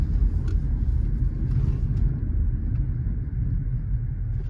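Steady low road rumble from inside a moving car, with a constant deep drone and faint rattles throughout, no talking.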